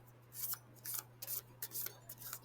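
A deck of playing cards being shuffled: several quick, crisp riffling bursts of paper flicking in a short, uneven rhythm, fairly faint and close, with no voices.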